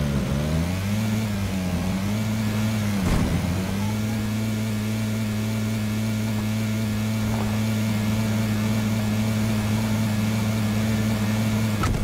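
A motorbike engine in a video game drones steadily throughout with a sustained mid-pitched tone. It dips briefly near the three-second mark and then holds an even level.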